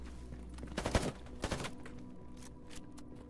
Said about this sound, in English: Bullets are flying.